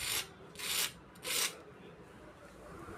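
Three dry, crisp scraping rasps of a spatula working a crispy dosa across a hot pan, spaced about half a second apart, followed by a quiet hiss.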